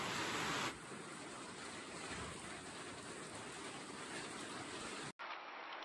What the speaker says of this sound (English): All of a sudden, it starts raining.